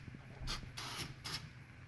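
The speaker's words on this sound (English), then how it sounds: "just take your can of lube and just give it a good thorough spray" A can of lubricant sprays a garage door bearing in three short hissing bursts, the second the longest, close and fairly quiet.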